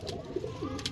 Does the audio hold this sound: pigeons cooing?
yes